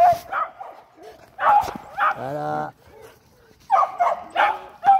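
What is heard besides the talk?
dog barking and whimpering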